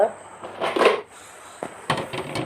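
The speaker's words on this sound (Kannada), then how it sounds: "ಒಂದು ಮುಚ್ಚಳ ಮುಚ್ಚಿ ಇಡುವ" A lid is set onto a container of oil-kneaded rice dough in a home kitchen, giving a short hard clatter followed by a second lighter clink, close by, with a person talking around it.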